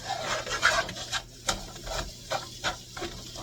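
A spoon stirs a butter roux in a pot over lowered heat, making repeated close scraping, rasping strokes in an uneven rhythm with a faint sizzle underneath.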